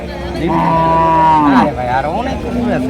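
A Holstein Friesian cow at a cattle market lets out a long, drawn-out moo that rises and bends, close by, against a murmur of background voices and market noise.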